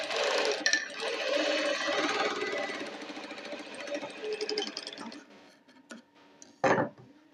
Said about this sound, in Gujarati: આ રીતે અહીંયા આપણે ડબલ સિલાઈ લગાડી દેવાની